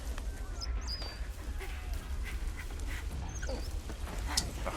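Walt, a dog in the video game Soldats inconnus, gives a few soft, high whimpers over a low rumbling ambient bed, faint and intermittent.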